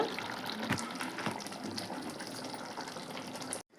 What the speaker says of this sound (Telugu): ఇక మిక్సీ గిన్నె కడిగి వేస్తున్నానండి వాటర్.